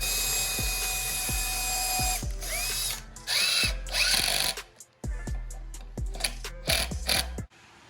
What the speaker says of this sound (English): A drill, Jaden, you have to have steady hands.